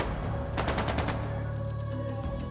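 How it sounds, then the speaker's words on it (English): Rapid gunfire bursts in the video game Trails of Cold Steel 2, a quick cluster of shots rattling near the start and then trailing off, set against sustained low droning background music, fairly faint overall. "That sounded like gunfire."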